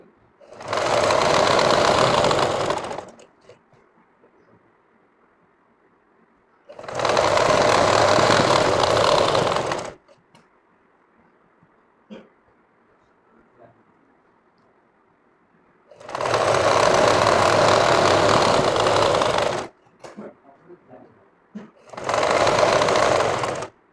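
A sewing machine stitches a pyjama with thick elastic and snap buttons at the leg, running in four loud, steady bursts of a few seconds each, separated by near-quiet pauses.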